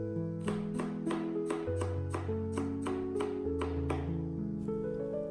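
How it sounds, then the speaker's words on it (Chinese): A kitchen knife slices half an onion into strips on a cutting board with about a dozen crisp, evenly spaced cuts, close and steady, over soft background music. "小半个洋葱切成洋葱丝"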